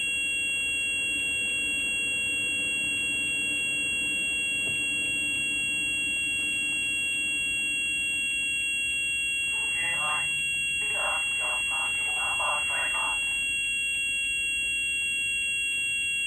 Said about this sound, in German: Was ist das für ein Gepiepe auf einmal?